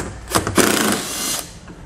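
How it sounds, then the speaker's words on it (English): A ratchet wrench with a 10 mm socket backs out a bolt behind a cover panel on a 2015 Subaru Outback wagon during a trailer hitch install. Two or three short, close bursts of clicking and rasping are heard, with a quiet tail. "Behind the cover we're going to reveal another bolt that we're going to take out with a 10 millimeter socket."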